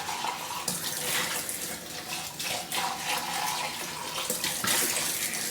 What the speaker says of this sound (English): Make sure you then rinse all the bits and pieces that you've used.